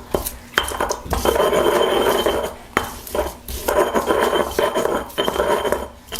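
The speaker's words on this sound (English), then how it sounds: "we'll start off with chopping some garlic for the marinade, and we'll use this mortar and pestle here" Garlic cloves smashed and ground with a mortar and pestle, giving repeated hard knocks and gritty scraping strokes in uneven bursts, loud and close.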